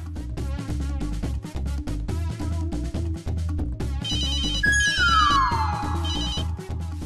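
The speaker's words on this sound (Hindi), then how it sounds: "मैं अपूर्व को ही फोन लगाता हूँ।" A phone rings with a bright electronic ringtone that comes in partway through, over rhythmic background music.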